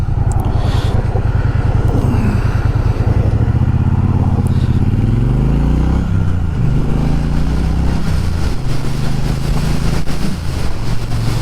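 A Triumph T120 motorcycle's parallel-twin engine with a 270-degree crank runs steadily and loudly up close, its low throbbing exhaust note rising and falling slightly as it revs, with no talk over it.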